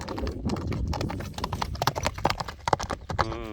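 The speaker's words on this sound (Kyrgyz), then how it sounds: "Кыска аралыкка чабып көрсөтүп жатат экен." A horse being sold gallops a short distance, hooves striking in a quick irregular clip-clop, fairly close and loud, with faint background noise.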